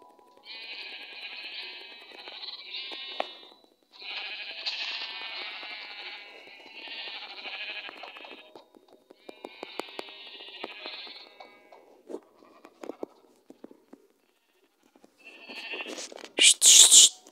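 Sheep in the Minecraft video game bleat in several long, wavering calls, one after another with short pauses, fairly close, followed by scattered clicks and a brief louder burst at the end.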